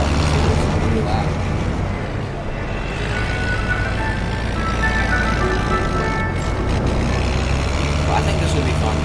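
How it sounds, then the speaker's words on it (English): A loud park vehicle driving in the video game Jurassic World Evolution 2, a steady droning engine rumble with tonal hum that runs continuously throughout, while a person talks over it. "I'm gonna have to quiet down this car because it's really loud."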